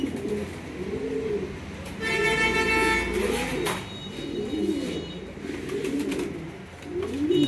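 Black Lahori pigeons coo in soft, rolling, repeated calls close by, several birds overlapping in a steady rhythm, while a brief tonal honk-like sound rises behind them for a second or so partway through.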